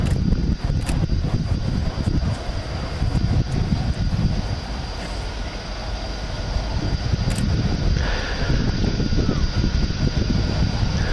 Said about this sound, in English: So here, coming into land, Captain Viktor Langó from the Hungarian Defence Forces with the JAS